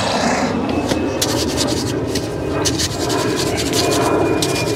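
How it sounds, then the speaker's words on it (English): An aeroplane from nearby Farnborough Airport passes over a house, a steady broadband rumble filling the background while close scraping and rubbing sounds of garden work sit on top. "There's always so many aeroplanes going over my house now."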